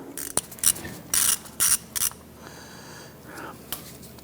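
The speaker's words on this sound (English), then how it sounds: "There's a 5/16 bolt on the backside securing that. So you want to go ahead, loosen and remove that bolt." Ratchet loosening a 5/16 bolt that holds the ABS speed sensor on a 1997-2006 Jeep Wrangler front end, heard as several short bursts of metallic clicking close by, then a quieter tail with a faint whir.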